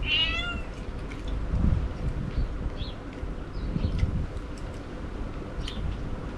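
A cat meows once at the start, then faint mews drift over a steady rumble of wind and background noise.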